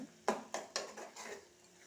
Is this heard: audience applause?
no